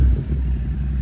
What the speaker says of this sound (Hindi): तो गाइस ये देखो हम कर रहे हैं इसको रेव अब